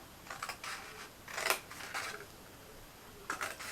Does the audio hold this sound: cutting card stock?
yes